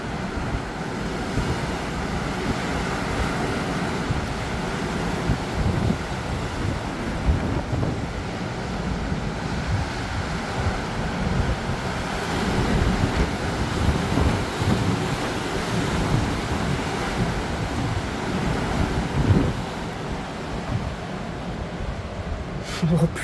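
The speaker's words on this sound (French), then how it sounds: "c'est moi ou le vent n'a jamais été aussi violent là?" Violent storm gusts from Storm Nils batter Bordeaux, producing constant loud rushing and roaring wind with microphone buffeting and surging bursts throughout, no clear talking over it.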